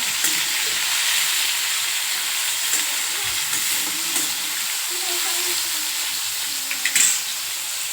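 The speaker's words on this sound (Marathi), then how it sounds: "छान असे फ्राय करून घ्यायचे कारले परतून घ्यायचे" Bitter gourd pieces sizzle and fry steadily in hot oil in a pan, a continuous broadband crackle with occasional soft stirring scrapes and a brief clink near the end.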